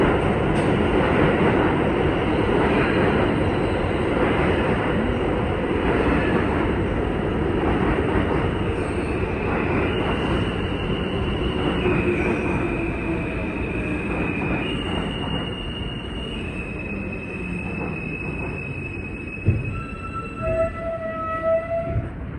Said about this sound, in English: here comes another inbound Jamaica Center train